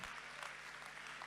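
Audience applause for the sound system crew at the closing ceremony of a carol singing competition, a steady wash of many hands clapping, fairly faint and distant, lasting just over a second.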